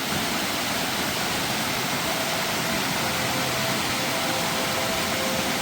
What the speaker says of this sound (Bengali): সিঁড়িতে নামতে নামতেই ঝর্ণার আওয়াজ আসছে